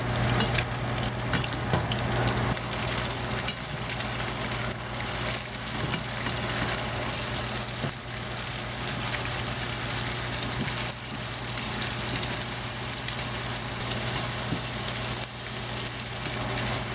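Beef and green beans stir-fry in a pan, a steady, dense sizzle with crackling oil running the whole time alone, with no voice over it.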